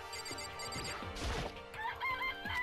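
Chickens in the Danganronpa video game, with a rooster crowing and fowl clucking close by over game music, plus a short crash sound partway through.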